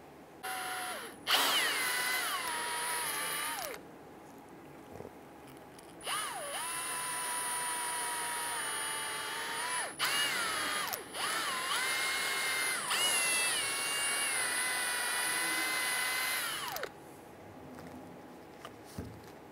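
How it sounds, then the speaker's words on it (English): Power drill spinning a bore brush inside a brake caliper port on a 2005-2010 Chrysler 300 during a front brake job: several loud whining bursts of a few seconds each, with pitch sagging under load, separated by short pauses. "We're going to put this on our drill, and we're going to go ahead and clean the inside of this unit here."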